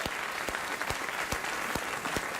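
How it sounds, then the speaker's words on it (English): Studio audience applause on a late-night talk show: a dense, steady wash of clapping with sharp individual hand claps popping out, sustained throughout. "this will really get applause"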